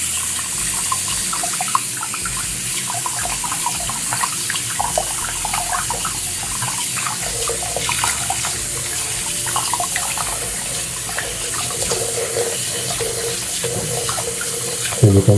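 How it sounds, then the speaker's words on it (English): Water is poured over a Samsung Galaxy S25 Ultra phone, onto its speaker grille and USB Type-C port, making a continuous close splashing and trickling rush that stays steady and loud with no talk. "So you can see I'm putting lots of water on the speaker grill and the USB Type-C port."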